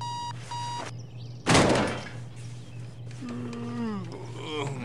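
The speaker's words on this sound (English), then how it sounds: "Oh, alarm's going off." An electronic alarm going off in the video game Postal 2: repeated beeping tones, then a loud burst and a mooing-like wavering call over a steady hum, fairly loud and without talk.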